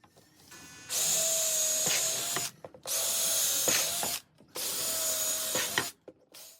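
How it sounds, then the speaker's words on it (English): A power drill bores countersink holes into bracing timber for a pleather bed head, whining loudly in three sustained bursts with brief quiet gaps between them. "This is where I'm going to put some countersink holes, and that way I can throw the screws through and mount it to the timber"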